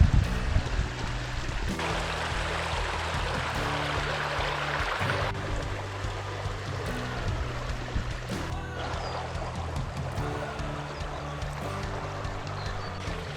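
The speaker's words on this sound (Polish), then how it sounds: "Jest rzeka." A mountain river in the Jizera Mountains flows steadily in the background, a continuous broadband rush of water with a low-pitched hum underneath, heard close and unbroken throughout.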